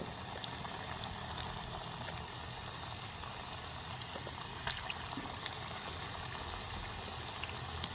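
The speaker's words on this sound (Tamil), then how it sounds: "அப்படியே போட்டு நான் பொரிச்சு எடுப்பேன்." Pieces of spicy snack dough deep-fry in a pan of hot oil in a village kitchen, giving a steady, dense hiss and fizz with scattered crackles, heard up close and nearly alone.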